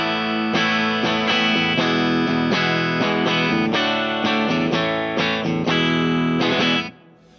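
Electric guitar on a VanderCaster parts-build, humbucker split with its coils wired in parallel, playing a steady run of picked notes and chords with a full, bright tone, close and loud, ringing out alone before cutting off at the end.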